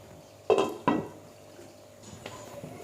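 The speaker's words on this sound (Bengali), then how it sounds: "মাছ দিয়ে এটা আমি ঢেকে দেবো।" A lid lands on a pot of frying tilapia with two quick metallic clanks close by, followed by a soft, low bubbling and sizzle.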